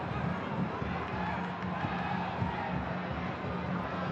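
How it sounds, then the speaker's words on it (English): Soccer stadium crowd at a Louisville City FC versus Rio Grande Valley FC match, a sustained rumble of cheering and shouting that holds steady from start to finish, with a few louder bursts rising from the mass of voices. "that got the crowd amped up a bit"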